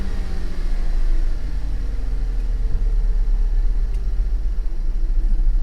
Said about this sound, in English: No, it's misfiring. As soon as I let off the throttle, the whole car is shaking.